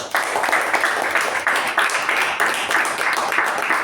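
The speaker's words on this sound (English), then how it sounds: "She deserves a very, very good round of applause." A small audience at a Toastmasters meeting applauds: brief, steady clapping at moderate volume, with a slightly irregular rhythm, from a room of people.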